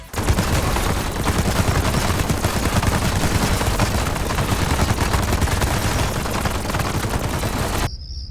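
Maelstrom shotgun in Black Ops 6 Zombies firing continuously, a dense, loud roar of rapid blasts running about eight seconds before cutting off abruptly, with only a faint tail after.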